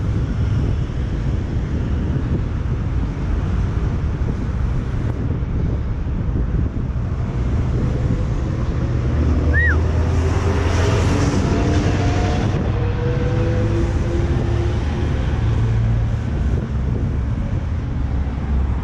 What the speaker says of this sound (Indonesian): Oh my god, anginnya kencang banget,